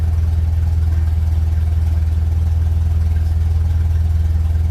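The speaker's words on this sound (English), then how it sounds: "the exhaust is always louder when they're colder" A cold 1957 Ferguson 35 tractor running on TVO idles steadily, its loud exhaust throbbing in an even low rhythm, close and alone.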